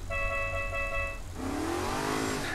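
Red sports car in Saints Row: The Third: a steady high tonal whine cuts off partway, then the engine rises with climbing, rushing revs, moderately loud with no voices.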